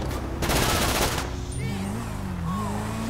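Rapid automatic gunfire from the video game GTA V rattles in a dense burst for about a second, then gives way to engine hum and faint game effects.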